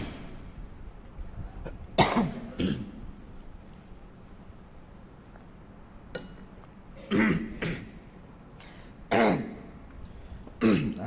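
A man coughs and clears his throat several times in a quiet room, with short, sharp bursts spaced a few seconds apart against a low background hum.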